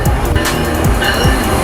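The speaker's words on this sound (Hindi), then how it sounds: "फिलहाल हम लोगों को भाई एक गो ट्रेन पकड़नी थी" A GO commuter train rolling past in Canada, a loud steady rumble with rhythmic low clatter from the wheels on the track, heard up close with no voices.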